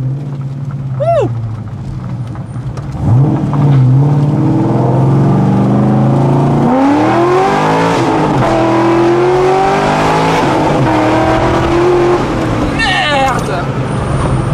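A Corvette C6 engine accelerates hard, heard from inside the car as a loud rising roar through repeated gear pulls, while excited voices exclaim over it.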